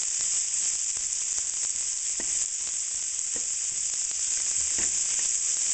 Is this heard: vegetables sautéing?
yes